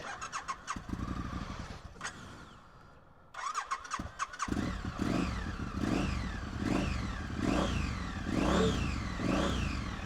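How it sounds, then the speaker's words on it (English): Triumph Street Scrambler motorcycle on its standard exhaust, starting up and revving loudly up close, with a short gap before repeated throttle blips rise and fall in a steady, rhythmic pattern. "I think the Street Scrambler exhaust is possibly one of the best sounding standard exhaust you can get on a motorcycle."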